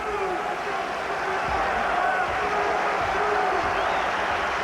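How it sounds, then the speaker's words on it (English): Basketball arena crowd at a Michigan home game, a steady broad roar of cheering and yelling throughout, fairly loud and diffuse, with talk layered over it. "And crowd trying to fire up this Michigan club"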